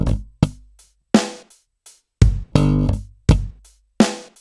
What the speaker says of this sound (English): We slap that, and then we do a left hand slap